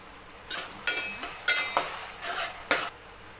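Ginger garlic paste being sautéed in a pan for chicken biryani, heard as a series of sharp metallic scrapes and clinks of a spoon against the pan at irregular intervals over a quiet background, with no talk.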